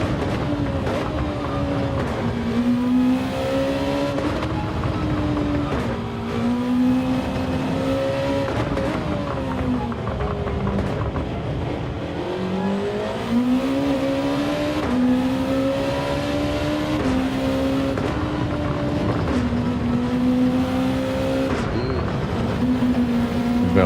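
A Nissan GT-R race car engine in Gran Turismo 7 drones loudly and continuously, its pitch rising and falling with gear changes and throttle over a long stretch.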